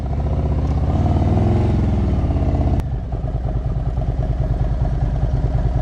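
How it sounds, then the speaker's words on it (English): Motorcycle pulling away slowly in first gear during a slow-speed riding exercise: a steady close engine drone that drops after a brief tick, settling into a lower rhythmic idle-like pulse as it rolls off. "Smooth start. First gear, cover the rear brake, preload, clutch, foot up."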